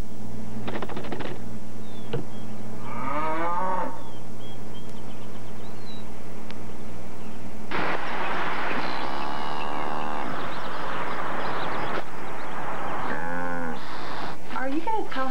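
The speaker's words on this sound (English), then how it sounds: "Him that's a boy cow?" Cattle moo loudly and close up in a 2001 television commercial. Several long, drawn-out lowing calls are spaced across the stretch, with a steady background hum and brief rustling sounds between them.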